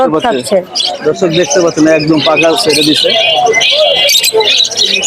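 Doves and other caged birds at the Mirpur 13 bird market, chirping and cooing in dense overlapping calls close by, mixed with people talking throughout.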